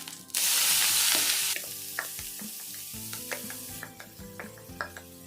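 Carrot and cabbage for a Kerala thoran tipped into a pan of browned urad dal, setting off a loud burst of sizzling that settles into a softer fry with repeated sharp spoon clicks and scrapes against the pan.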